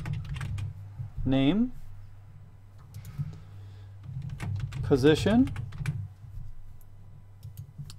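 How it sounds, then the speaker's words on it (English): Someone types data into spreadsheet cells on a computer keyboard, producing steady, close clicking keystrokes throughout while a person speaks a few words over them. "I'm going to start typing these in"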